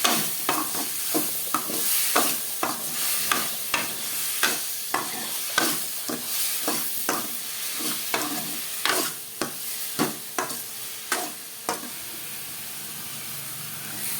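Boiled broad beans stirred into a frying eggplant curry: a run of regular spoon scrapes against the pan, roughly one every half second, over a continuous close hiss and sizzle, with no talking.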